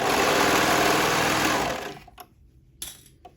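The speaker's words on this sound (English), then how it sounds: "Let's pull it out. And sew it all the way to that back piece where we started." Sewing machine running steadily while stitching reversible swim bottoms, a loud continuous mechanical whir for about a second and a half, then stopping, followed by a few faint handling clicks.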